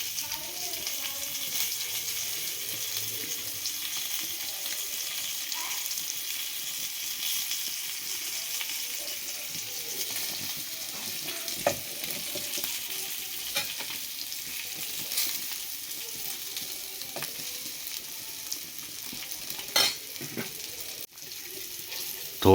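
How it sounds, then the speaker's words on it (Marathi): Fish frying in a pan over a wood-fired stove, a soft continuous sizzle with occasional crackles and clicks throughout. "परत एकदा 5 मिनटं ती फ्राय करण्यासाठी ठेवावी लागते"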